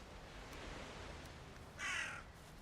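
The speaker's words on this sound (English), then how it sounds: "after a while the sound of the crows" A single crow caw rings out in a Valheim forest over a quiet, steady ambient hiss.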